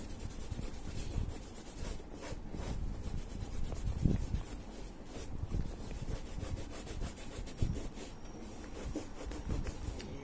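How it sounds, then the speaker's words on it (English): A cloth rubs vinegar onto a leather handbag in repeated soft, close strokes, a scratchy, rhythmic friction sound that stays quiet the whole time, with no talking. "So we just continue to rub it on."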